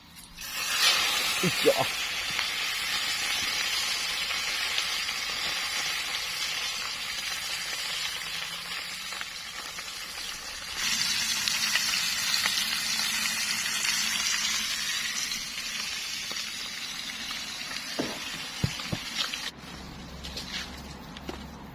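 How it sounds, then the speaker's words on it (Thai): Salted fish deep-frying in oil, a loud continuous sizzling hiss that holds for a long stretch, shifting in texture partway through, with a few brief clatters near the start and the end. "ก็เลยเอาปลามา ทอดดีกว่านะครับผม ทอดราดเกลือนะครับผม"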